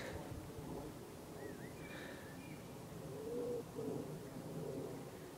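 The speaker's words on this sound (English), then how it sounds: "That might be a wood pigeon, actually." A wood pigeon cooing faintly in the distance, soft low calls surfacing over steady outdoor background noise along with a few thin bird chirps.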